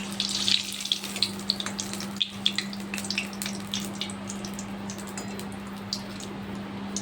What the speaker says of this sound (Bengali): গরম গরম কচুরি এখানে ভাজা হচ্ছে।